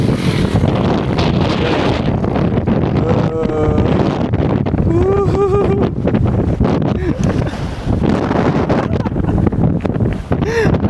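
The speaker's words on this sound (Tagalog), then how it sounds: "Ang lakas ng hangin." Strong wind roars steadily and loudly into the microphone during a mountain climb, a constant heavy buffeting with no letup, while people talk intermittently over it.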